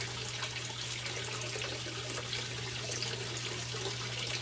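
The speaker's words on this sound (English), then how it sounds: "You hear water in the background because I have a 500-gallon koi pond here in the greenhouse with about a dozen koi in it with a waterfall." Water from a waterfall runs steadily into a 500-gallon koi pond inside a greenhouse, a constant close splashing rush with a low hum beneath it and no talk.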